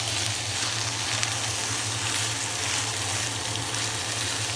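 Spinach wilting in a pan with onions gives a steady, even sizzle and frying hiss, continuous and fairly close, with no voices over it.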